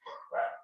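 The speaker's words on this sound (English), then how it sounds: "Sorry for my dogs in the background." Dogs in the background of a home video call give one short two-part bark, a close yelp followed by a slightly longer bark, quiet and alone.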